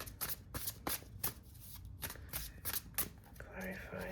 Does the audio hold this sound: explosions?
no